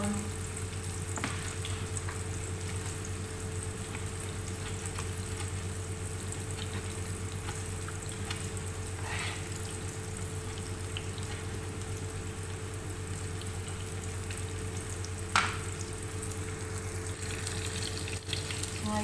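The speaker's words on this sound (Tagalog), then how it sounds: "itong onion, ipa-brown mo dito. Gisa mo muna siya." Steady low sizzling of onion sautéing in a pan, with an electrical hum and a few faint clinks.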